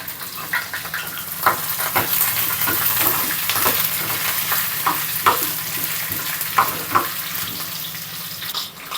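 Cashews fry in oil for lemon rice with a bright, steady sizzle close by. Repeated spoon scrapes and taps sound against the pan, and no one speaks.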